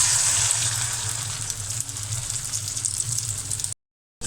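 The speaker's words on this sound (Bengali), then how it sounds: "আমি এখন ডিম ভাজি করব।" Egg frying in a pan, a continuous bright sizzle close by and steady throughout before cutting off abruptly near the end, with no talking.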